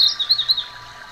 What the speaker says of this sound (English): You can hear the birds at the top of the mountain and at the top of the trees. The beautiful singing